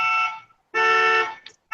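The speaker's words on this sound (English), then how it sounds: "Some dog in the neighborhood can't figure out their car alarm." A car alarm in a neighborhood blares loud, harmonic electronic tones in long bursts separated by short gaps, close and alone with no talk over it.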